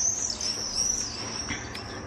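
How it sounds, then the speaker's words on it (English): Outdoors on a lovely day, birds chirp and trill in a high, steady song, with insect-like buzzing and a few sharper calls near the end, no talk. "Hear the birds?"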